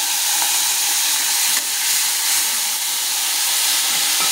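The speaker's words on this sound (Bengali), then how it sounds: "তো শুটকি মাছটা আমি যে ভেজে নিচ্ছি" Dried fish frying in hot oil in a pan, a loud, dense, continuous sizzle and hiss close up, with no voices over it.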